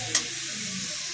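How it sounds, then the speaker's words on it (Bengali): Potato, beans and carrot mixture for vegetable chops stirred in a pan, a brief soft scrape over a low continuous sizzle, close and fairly quiet. "আলুটা আর বিনস গাজর সব মিক্সড হয়ে গেছে খুব সুন্দর"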